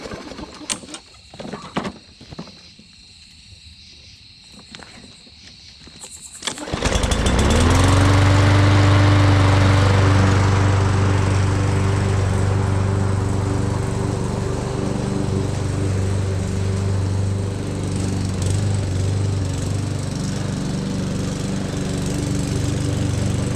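A walk-behind lawn mower engine is pulled to life after some clanking, then runs at a steady, loud, close drone for the rest of the clip with no talk.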